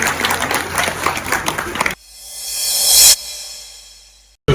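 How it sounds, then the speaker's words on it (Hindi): Clapping for an honoured guest at an annual picnic gathering, a loud dense burst that stops abruptly partway through, followed by a rising hiss. "आपके सम्मान में भी एक बार हम सब मिलकर तालियां बजाएंगे"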